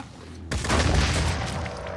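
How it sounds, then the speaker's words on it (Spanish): An assault soldier in the Phoenix Point video game fires a sudden burst of gunfire, a loud, dense crackle of shots that starts abruptly and fills the rest of the short moment. "Ahí estamos aguantando esa ráfaga de disparos procedente de este soldado de asalto"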